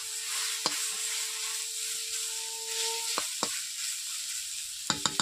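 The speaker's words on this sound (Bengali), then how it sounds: "শাকগুলোকে ছেঁকে নেওয়ার পর 1 থেকে 2 মিনিট আমি নেড়ে নেব" Susni greens being stir-fried in a pan, a soft steady sizzle with a few sharp clacks of the utensil against the pan, a quick cluster of taps near the end, and faint tonal background hum.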